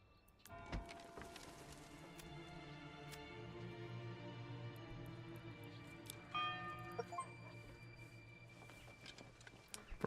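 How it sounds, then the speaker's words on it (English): A church bell rung in a manor-lordship video game tolls with sustained, ringing overtones that swell and decay over several seconds, fairly quiet, with no talk. "I didn't realize I got an achievement for ringing the bell"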